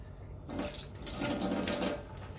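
Tap water runs steadily into a sink or tub while a cat is being bathed at home, a continuous splashing flow that swells slightly mid-way and carries on alone without talk.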